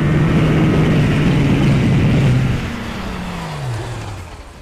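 A Kawasaki Ninja H2 SX SE sport-touring motorcycle on the Estoril circuit, its engine droning loud and close, then easing off as the pitch falls and the roar fades slightly toward the end.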